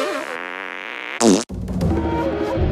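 A cartoonish fart sound effect from the video game South Park: The Stick of Truth: one short, loud, raspy burst that cuts in after a wavering tone and is followed by a busy, noisy game backdrop.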